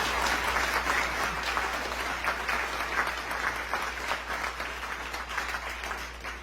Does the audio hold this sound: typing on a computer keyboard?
no